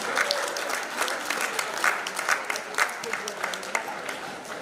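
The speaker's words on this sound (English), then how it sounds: "A round of applause, please." A crowd at a memorial celebration-of-life gathering claps steadily for a few seconds, a warm burst of applause with scattered louder claps.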